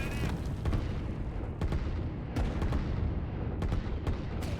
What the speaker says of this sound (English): these two artillery are attacking one